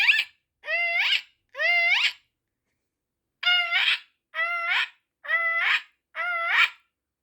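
A person vocally imitates an American eagle goose call: seven short, rising-then-falling nasal honks, two close together, a pause, then five more in steady rhythm, loud and close with no other sound.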